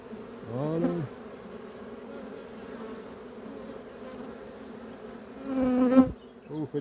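Bees buzz loudly right at an open beehive, their droning hum wavering in pitch as individual insects swoop close, swelling at the start and again near the end.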